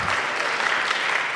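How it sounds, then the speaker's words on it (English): A conference keynote audience claps steadily in dense, sustained applause, a brief burst with no voices rising above it. "Let's give them a round of applause"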